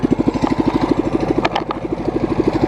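A small go-kart engine without its chain on idles and revs with a fast, even putter, loud and close, with a brief higher burst of mechanical noise midway.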